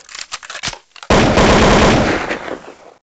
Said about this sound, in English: Buddies, shoot him down.